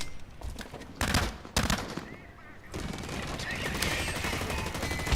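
Rapid bursts of large-caliber gunfire in the online shooter Blacklight Retribution, with several sharp volleys early on, then a dense, sustained stretch of automatic fire and game noise running to the end.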